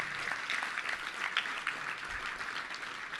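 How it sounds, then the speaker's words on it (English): An audience claps at a Little Rock Touchdown Club luncheon for four honored local businesses, a steady moderately distant patter of many hands sustained throughout without a voice over it. "Let's give a round of applause to 4 of our outstanding businesses."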